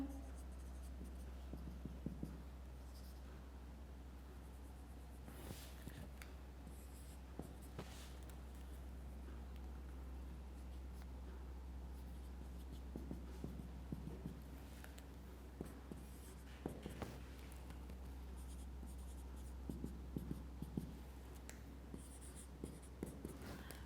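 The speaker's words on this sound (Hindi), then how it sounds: "इसको थोड़ा सा शॉर्ट करके लिख देती हूँ मैं।" Pen or chalk writing out notes during a class 9 chemistry lecture, with intermittent quiet scratching strokes in short bursts over a low steady hum, no talking heard.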